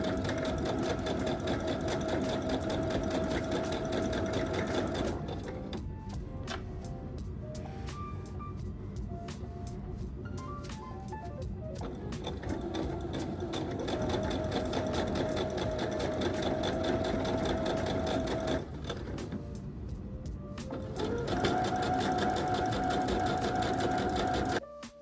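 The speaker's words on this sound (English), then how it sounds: "Using my twin needle and working with the right side of the garment, I'm stitching 1 centimeter away from the fold of the neckline." A sewing machine fitted with a twin needle stitches along the neckline of a long-sleeve top, whirring loud and steady in long runs broken by short pauses, with softer handling sounds between.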